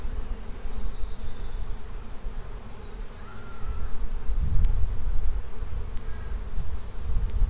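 A dense, steady buzz of many honey bees at a hive close by, with a few individual insects droning past over the constant hum.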